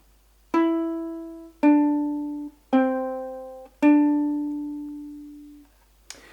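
Ukulele slowly picking the opening notes of Mary Had a Little Lamb: four distinct plucked notes with longer gaps, the last left to ring out, close and unaccompanied.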